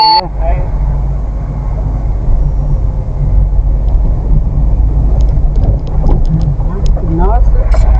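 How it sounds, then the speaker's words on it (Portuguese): Many cars arrive near a waterfall on the Guaxinduba river at Canta Galo, giving a continuous low engine rumble close by while people talk over it. "Muito carro vindo pra cá, né?"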